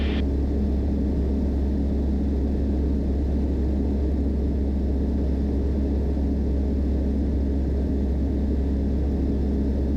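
Steady, loud cabin drone of a Van's RV-12iS light aircraft engine running at 5,000 RPM in cruise, a constant low rumble with a droning hum and no variation.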